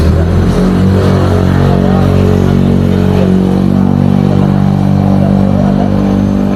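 Motorcycles rev loudly on a village street in Klampok, Singosari, a steady close engine drone with low harmonic whine holding throughout, a faint voice mixed in.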